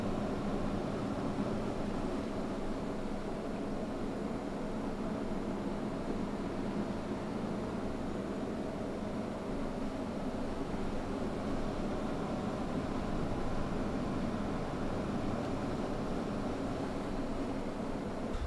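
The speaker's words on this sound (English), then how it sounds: "what you just heard is the stress test running the CPUs at" Server fans spinning at full speed while the CPUs run a stress test at 100%, a constant, dense broadband whoosh that holds evenly throughout with no other sounds.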